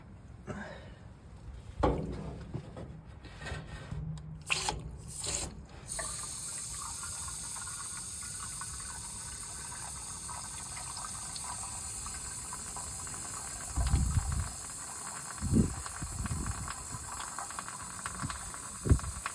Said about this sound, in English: you keep running water through it until the water coming out of the pipe there is clean